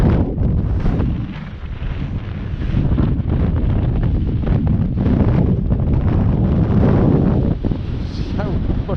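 Wind at a stillwater fishery rumbles and buffets the microphone in a loud, continuous low roar with gusty swells, and faint talk sits under it.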